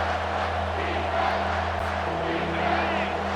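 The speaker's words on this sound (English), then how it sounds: "Decibels rising as the crowd gets behind this defense on 3rd down." A packed stadium crowd at a USC versus UCLA football game roars steadily on a third-down play, a dense sustained wall of cheering and shouting with a commentator's voice underneath.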